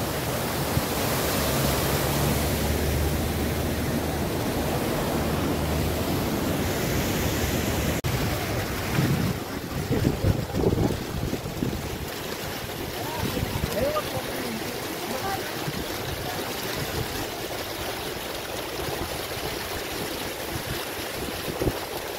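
Water at a boating lake gives a broad rushing wash, loud at first and then lighter and more broken with faint splashes, under someone talking nearby.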